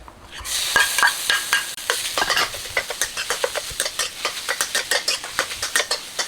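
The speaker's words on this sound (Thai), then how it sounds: "ตอนนี้กระเทียมของเราก็ เริ่มหอมดีแล้วนะครับหมูสับครับ ใส่เลย" Minced pork stir-fried with garlic in a hot wok, giving a loud continuous sizzle broken by rapid rhythmic spatula scrapes and clanks against the metal, close and with no talk.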